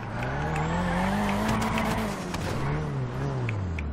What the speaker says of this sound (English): I just love hearing it bouncing off the limiter here in the turbo